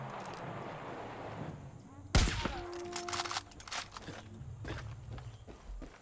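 Gunfire in the video game Far Cry 5: a sharp loud shot followed by a burst of rapid shots, then quieter game ambience with footsteps and distant muffled voices.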